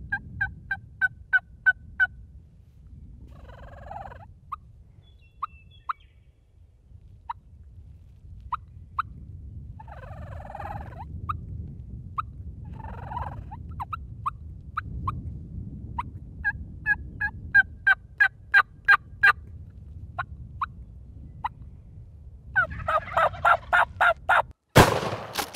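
Wild Merriam's turkeys gobble in a snowy Wyoming field, with repeated bursts of gobbling near and far amid steady outdoor background noise, ending with a sharp loud bang.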